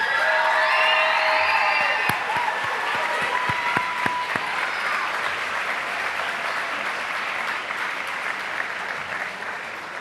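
An audience at an awards ceremony honoring teachers claps in a sustained round of applause, dense and loud at first and then slowly thinning, with a few whoops and a brief musical flourish at the start.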